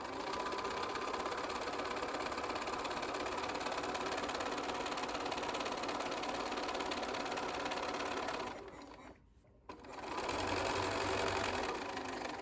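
Sewing machine stitching fabric for a zippered phone pouch, running in a steady, fast mechanical buzz, briefly pausing for a back stitch before resuming.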